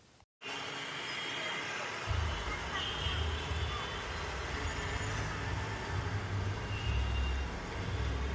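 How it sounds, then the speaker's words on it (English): Roadway traffic from a major highway beside a property in Ajijic, Mexico, a continuous broadband roar of passing vehicles with heavier low rumbles rolling by in the second half. "the property was backed up to a major highway, so there was cars and motorcycles and noise"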